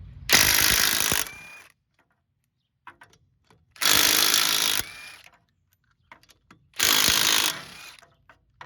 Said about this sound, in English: 21 millimeter socket. Let's get this tire off.